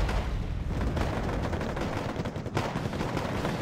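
Constant mortar barrage in the Wargame Airland Battle video game, a dense, continuous roll of overlapping booms and crackling blasts, loud and unbroken.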